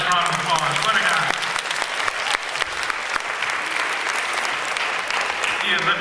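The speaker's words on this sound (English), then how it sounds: "Let's give my new assistant a nice round of applause" An audience claps for a magician's new assistant in a sustained burst of loud, dense applause with scattered cheers, continuing for several seconds.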